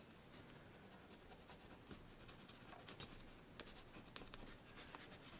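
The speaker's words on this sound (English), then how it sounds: "colored pencil. I like to scribble." Colored pencil scribbles on paper in quick, close, faint scratchy strokes, a soft continuous rasp with small ticks of emphasis.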